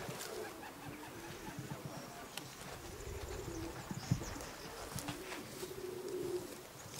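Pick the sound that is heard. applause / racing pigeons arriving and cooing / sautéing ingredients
racing pigeons arriving and cooing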